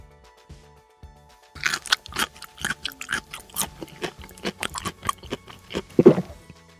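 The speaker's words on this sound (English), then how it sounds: "Can I try eating the next two macarons together?" Strawberry and pistachio macarons eaten together, bitten and chewed close up in a kitchen, making a run of soft crunches and moist chewing sounds that starts after a quiet second and continues steadily, with no talking.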